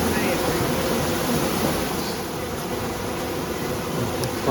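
Steady, dense buzzing of a mass of honey bees from a newly installed bee package, a continuous close drone filling the whole stretch without pause.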